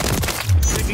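Call of Duty gunfire in a dense, continuous burst of rapid shots with a heavier boom midway, loud and close throughout the one-second span.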